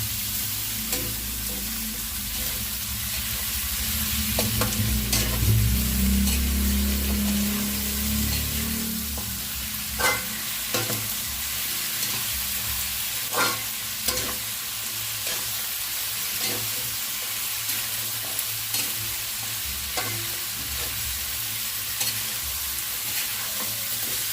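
Eggplant sizzles in a hot pan for a mixed vegetable dish, with a brief louder burst early on followed by steady crackling and repeated spatula scrapes and taps, no talking.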